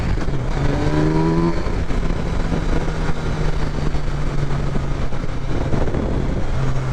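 A 2023 Kawasaki Versys 1000 SE LT motorcycle engine accelerating on a test ride, a steady rising drone beneath heavy wind rush, continuous and loud throughout.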